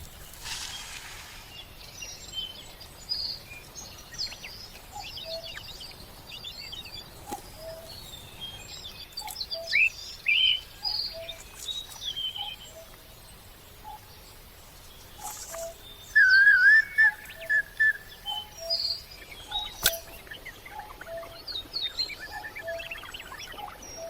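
Eastern Bluebird chicks chirping from a nest, with thin high chirps and short whistled notes in scattered bursts over faint background, louder clusters around the middle, no speech.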